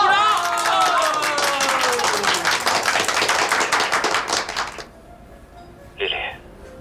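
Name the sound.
classmates clapping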